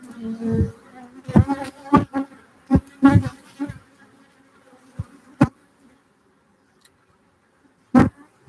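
Bees in a hive of about 100,000, mostly drones, buzzing in short close bursts that come and go, with quieter gaps between and a single louder buzz near the end.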